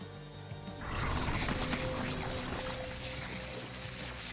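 A steady rush of water pouring in the video game South Park: The Fractured But Whole, loud and continuous after a brief quieter start, with no voices.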